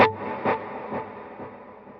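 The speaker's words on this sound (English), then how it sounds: "this is what it sounds like with the delay and reverb" Electric guitar run through delay and reverb effects with slight distortion, part of a dual-amp rig. Notes or chords strike roughly every half second, and each one trails off into a smeared, echoing tail that fades gradually.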